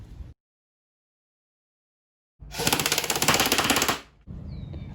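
An airsoft gun running on a 7.4 LiPo battery fires one fast full-auto burst of about ten rounds per second, a rapid mechanical rattle lasting under two seconds, preceded and followed by quiet outdoor ambience.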